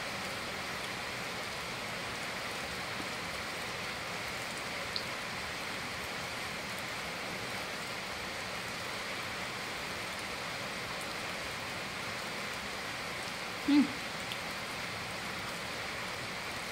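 Heavy rain falls steadily outside in a continuous broadband hiss that holds even for the whole stretch, with one brief louder knock near the end and no voices.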